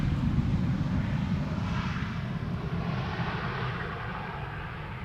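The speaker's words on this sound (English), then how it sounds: "another Embraer 175 arriving from Luxembourg, coming this way, presumably." An Embraer 175 airliner on arrival to land at Amsterdam Schiphol on a crosswind day roars steadily overhead, a loud broad engine rumble that holds and then eases slightly as it passes.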